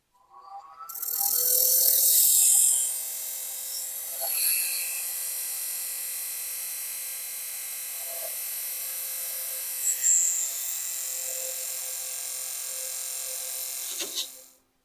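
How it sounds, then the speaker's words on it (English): A skew chisel makes an angled peeling cut on a wood lathe while turning a wine goblet, a steady high whirring hum of the spinning wood with a bright shaving hiss as the cut begins, continuing evenly. "with my skew, I'm going to do just an angled cut, a peeling cut towards the next line"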